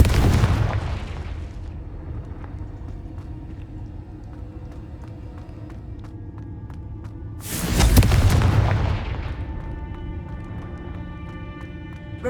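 Confringo spell explosions from Hogwarts Legacy: two heavy booms, one at the very start and another several seconds later, each followed by a long rumbling decay over a low, steady ambient hum.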